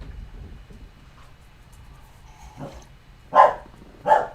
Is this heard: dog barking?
yes